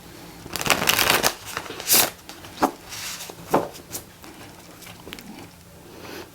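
A tarot deck being shuffled close up, with several quick riffling bursts and softer pauses between them, no voices.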